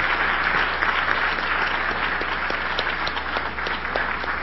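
A lecture audience claps loudly and steadily, a thick continuous wash of many hands that stays level without talk.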